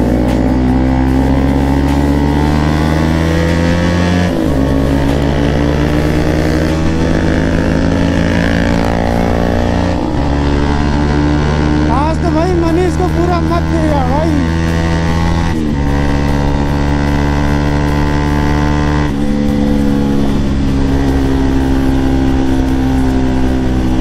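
A Bajaj Pulsar RS200 motorcycle engine held at high, sustained revs during a burnout at an Independence Day stunt ride, loud and continuous with pitch steps as the throttle shifts, and no talk over it.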